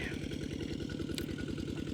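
A walk-behind tractor engine running in a field, a rapid rhythmic low chugging that holds steady and fairly faint, with a brief clatter near the middle.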